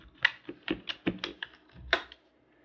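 Quick keystrokes on a computer keyboard while Python code is written, about nine distinct clicks in a short burst that ends in silence, close and clear.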